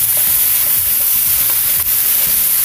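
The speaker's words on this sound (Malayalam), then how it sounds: "ഇത് നന്നായിട്ടങ്ങ് മിക്സ് ചെയ്തെടുക്കാം" A mashed banana mixture with fried cashews and raisins is stirred in a hot pan, producing loud close scraping and rhythmic spatula strokes over a steady sizzle, with no voices.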